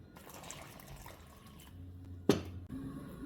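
Water trickles in small portions into chin chin dough made from 2 kg of flour, with a soft, quiet pour and one brief splash partway through.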